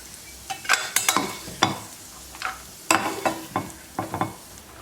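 Raisins frying in hot ghee in a pan for wheat rava kesari, bursts of crackling and sizzle with spoon scrapes coming in irregular clusters, close and fairly loud, no voices.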